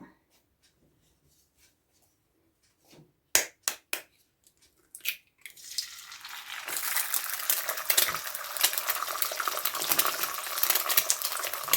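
Eggs being stir-fried for fried rice in a pan: a few sharp knocks and clatters of utensils give way to a steady, growing sizzle with frequent scraping and stirring.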